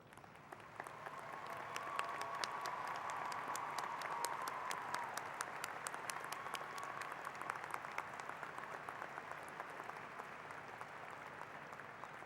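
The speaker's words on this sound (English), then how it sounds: "ask all members of the faculty to stand as you join me by honoring them with your applause" A large audience applauds faculty members standing at a university undergraduate commencement ceremony, sustained even clapping heard from a distance with a faint steady tone running partway through.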